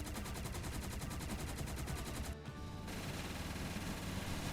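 Rapid automatic gunfire from a pack-a-punched weapon in a zombies video game, a dense, loud stream of shots running nearly the whole time, with a short gap before the firing resumes.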